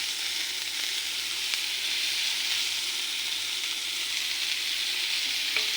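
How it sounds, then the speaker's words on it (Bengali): Chopped onions fry in a pan for capsicum paneer sabji, giving a steady, close hiss and sizzle with a few faint clicks of stirring and no voices. "এরপর কুচিয়ে রাখা পেঁয়াজগুলো দিয়ে দেবো।"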